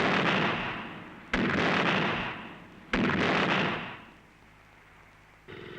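A 20 mm autocannon firing bursts, three sharp, loud onsets about 1.5 seconds apart, each trailing into a long rolling rumble that fades, with a final burst at the very end.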